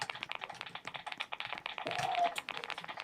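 Rapid keyboard typing sounds from walking across a computer keyboard in a Roblox game, a dense run of close, crisp clicks and taps continuing steadily throughout.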